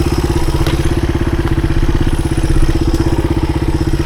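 A 1983 Honda XR200R dirt bike pulling up a hill in second gear, its single-cylinder engine thumping loud and close in a fast, steady pulse with slight swells in revs.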